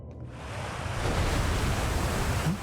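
Underwater ambience in the space exploration game Outer Wilds, a dense continuous rushing wash of water noise that swells slightly and stays steady, with no voices.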